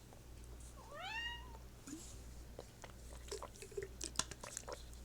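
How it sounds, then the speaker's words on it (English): A house cat gives one clear, close meow, followed by faint clicking and chewing-like sounds over a steady low room hum. "Don't just sit there and meow at me."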